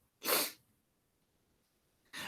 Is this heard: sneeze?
yes